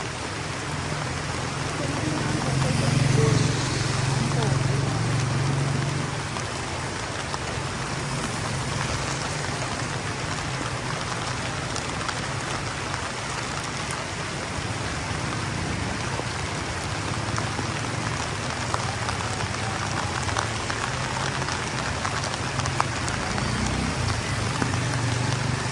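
Heavy rain pours down steadily during a rural motorcycle trip in Dolores, a dense, constant hiss of drops spattering on surfaces, with faint voices under the downpour.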